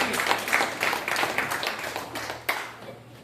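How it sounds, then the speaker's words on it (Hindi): A crowd of audience members applauding vigorously at a meeting, a dense wash of clapping with a few sharper claps standing out, fading slightly toward the end. "वेरी गुड, सहदेव सिंह जी, जोरदार तालियां।"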